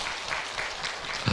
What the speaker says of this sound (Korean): 한번 감리사님 잠깐 박수 한번 좀 쳐주세요.